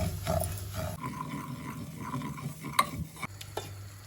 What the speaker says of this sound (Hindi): तो इसमें हम डालेंगे सूजी, घी, इसको भून लेना है।